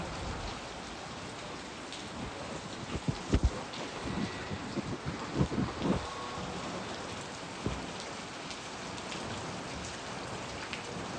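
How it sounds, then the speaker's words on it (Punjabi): Heavy rain pours steadily on a Monday morning, a dense continuous hiss with scattered louder drops and splashes in the middle, no voices. "ਬਹੁਤ ਜ਼ਿਆਦਾ ਮੀਂਹ ਪਈ ਜਾਂਦਾ ਬਹੁਤ ਜ਼ਿਆਦਾ"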